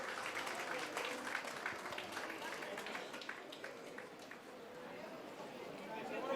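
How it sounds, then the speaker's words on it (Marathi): Audience clapping steadily at an annual gathering of an employees' welfare association, a dense continuous patter of many hands with crowd murmur beneath, sustained evenly throughout. "सर्वांनी त्यासाठी जबरदस्त टाळ्या वाजवायच्यात. टाळ्या कंटिन्यू वाजत राहिल्या पाहिजे."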